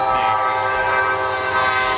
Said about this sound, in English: No, don't race the train, Jay.